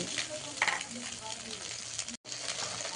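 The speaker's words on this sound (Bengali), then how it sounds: "তো এইদিকে ডিমটা ভাজা প্রায় কমপ্লিট" A beaten egg scrambles in a hot pan, giving a soft, continuous sizzle with a brief cut near the end, close and fairly quiet.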